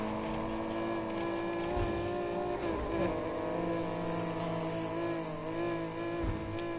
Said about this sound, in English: now we can really unleash the power of the V12 and see what it's flipping got